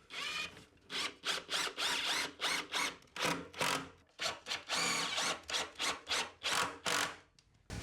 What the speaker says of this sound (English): grab a few screws and just lock them into place from the underneath